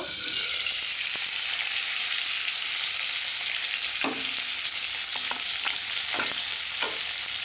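Shimul tengra fish frying in oil in a pan, giving a constant bright hiss with occasional sharper pops and spatters, close and steady throughout.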